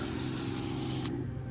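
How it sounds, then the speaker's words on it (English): A garden hose sprays water through the tip of an AC coil cleaner, a steady, close, full hiss that cuts off abruptly near the end, leaving a quieter low rumble. "I run it and spray it until you can see just pure water coming through it"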